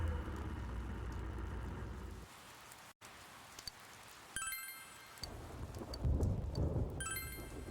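Thunderstorm with rain in Persona 4 Golden during thunderstorm season: a steady hiss of falling rain with a deep rumbling thunder roll, a brief dropout, then renewed bursts of rain and rumble, moderately loud with no voices.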